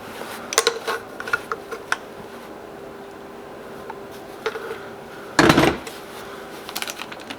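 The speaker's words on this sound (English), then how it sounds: "Now I'm gonna go ahead and loosen all the nuts on the compressor housing" A wrench loosens nuts on a compressor housing: scattered light metallic clicks and ticks, then a louder burst of rattling metal partway through, followed by a few more small clinks.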